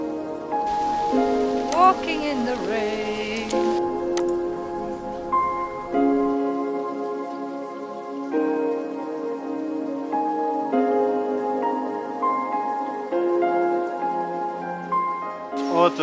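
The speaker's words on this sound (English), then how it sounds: "Walking in the rain." Steady patter of rain falling on a surface, continuous and moderately loud, with a faint tonal hum running underneath throughout.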